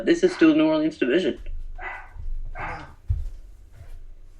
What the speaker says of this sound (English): Is that a barking dog I hear